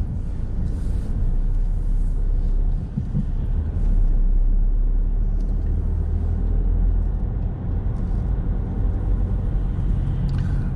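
Steady low engine rumble and road noise from inside a car driving along a town road during a driving test route, constant and close with only slight swells, no talk.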